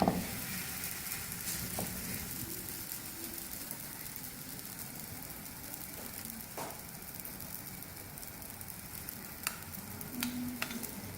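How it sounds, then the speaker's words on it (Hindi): A rolled paratha fries in desi ghee on a lightly greased tawa, a steady close sizzle holding evenly throughout with a few faint clicks and taps. "पराठा हमने बेल लिया, अब इसको तलेंगे।"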